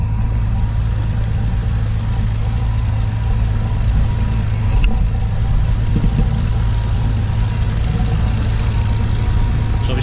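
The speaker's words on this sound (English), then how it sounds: "It's a 6-litre twin turbo W12 Bentley engine, and it's just purring away." A 6-litre twin-turbo W12 Bentley engine, in a Continental, idles steadily with a smooth, continuous low hum and a faint mechanical whir, close by and alone throughout.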